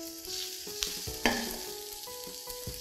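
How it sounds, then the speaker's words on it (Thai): Chopped bacon stir-frying in an oiled pan, a steady close sizzle with occasional louder spits and the scrape of stirring, no voices. "ผัดให้เบคอนสุก"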